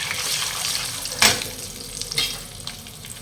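Curry leaves, cashews, chana dal, urad dal, green chilies and asafoetida sizzle in hot oil in a pan for a tempering, giving a steady close frying hiss with a brief louder crackle as more goes in.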